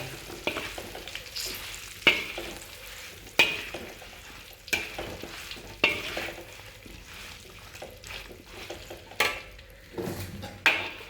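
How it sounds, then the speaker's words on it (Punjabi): Green chilies and amla are stirred with a ladle in a kadhai, giving a steady oil sizzle with regular sharp metallic scrapes and clinks every second or so. "ਹੁਣ ਵਿੱਚ ਹੁਣ ਪਾਤੇ ਔਲੇ ਇਸ ਤਰ੍ਹਾਂ ਇਹਦੇ 'ਚ ਕੜਸੀ ਮਾਰਨੀ ਚਾਹੀਦੀ ਹੈ"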